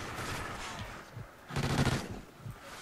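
Rapid bursts of gunfire in the video game Call of Duty: Ghosts, a dense automatic volley rising in the middle of the clip over steady background game noise, with no talk.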